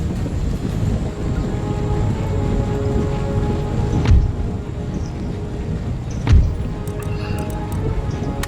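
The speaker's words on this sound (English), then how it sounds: "Oh, and it's starting to rain." Steady rain hisses across a battlefield in Empire: Total War, a dense even wash with faint rumble beneath, broken by two sharp low thuds near the middle and end.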